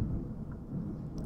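Low, rolling thunder rumbling steadily in the Hollow Knight video game, a dense bass-heavy roar with no voices.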